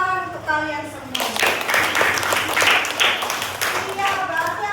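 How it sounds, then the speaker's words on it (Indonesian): Fifth-grade pupils in a primary school classroom burst into loud, dense clapping after a voice, and the applause runs steadily for a few seconds before fading as speech returns. "Tepuk tangan untuk kalian semua"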